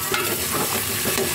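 Pork lechon kalburo cooking in a pot gives a steady, close bubbling and sizzling wash that runs without a break under light stirring noise, with no voices.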